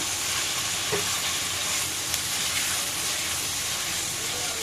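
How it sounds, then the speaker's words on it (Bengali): Loud, continuous sizzling and hissing of chicken frying in hot oil fills the space, close and steady without pause. "আর এখন চলছে মুরগি ফ্রাই করা"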